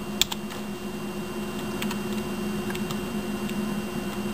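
Quiet keystrokes on a Merc Stealth gaming keyboard, soft scattered clicks tapping irregularly over a steady low hum, faint and close with no voices.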